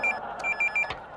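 A telephone rings in an RTO office, with short repeated electronic bell bursts in a quick broken rhythm. The rings are moderately loud over a low background murmur.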